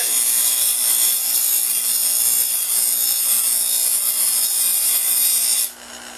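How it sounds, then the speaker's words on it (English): An aluminum filter housing has its cut edge eased on a grinder, making a steady, loud abrasive rasping that runs unbroken for several seconds before cutting off near the end. "I'm going to hit it lightly with the grinder"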